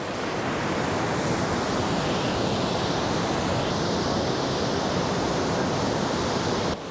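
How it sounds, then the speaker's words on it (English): The Pushpavati river rushes down from the Tipran glacier in the foggy Himalayan Valley of Flowers, a loud, steady, unbroken roar of fast water heard up close with no voices. "This is the Pushpavati river, which is flowing from the Tipran glacier."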